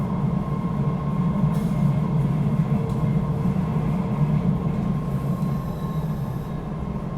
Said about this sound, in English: It is the first train of the day.